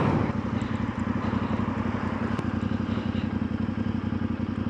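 A Voge DS800X Rally motorcycle engine idles close by, a steady loud throbbing rumble with even pulsing beats throughout, without voices.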